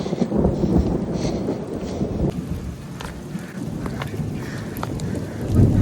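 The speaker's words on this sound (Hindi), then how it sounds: "आवाज सुनाई दे रही है आपको? गड़गड़ाहट।" Thunder rumbling during heavy rain near the Bijli Mahadev temple, a deep sustained roll that stays loud through the whole stretch, swelling again at the end over constant rain hiss and wind.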